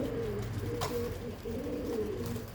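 Pigeons coo at a feeder among young birds eating, a steady layered cooing of several males close by, with one brief sharper note partway through and no talk.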